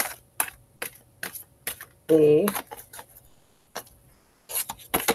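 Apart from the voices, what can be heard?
shuffling large tarot cards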